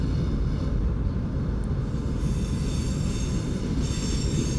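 A six-carriage train running in the Open BVE train simulator game, a steady close rumble of wheels on rails with a faint high squeal above, continuous and without speech.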